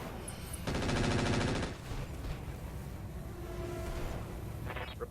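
Rapid automatic weapon fire from mechs in the video game RogueTech Battletech crackles in one loud burst of about a second, then fades into a low rumbling background with faint mechanical tones.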